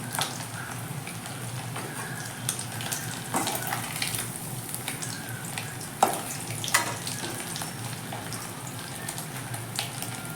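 Small anchovy fish frying crisp in oil over a medium flame on a stove make a steady low sizzle with scattered clicks and a couple of sharper clanks, near and alone with no speech.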